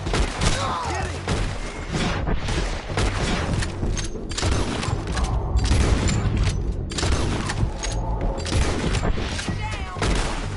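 Dense bursts of gunfire and booms rattle through a PS4 shooter battle, loud and nearly continuous, with shouted voices mixed in the din.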